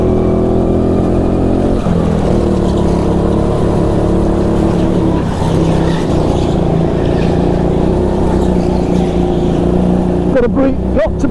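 A go-kart engine at Team Sport Warrington karting track drones loud and close throughout a fast session's laps, its pitch rising and falling with acceleration through corners, with a few brief bumps near the end.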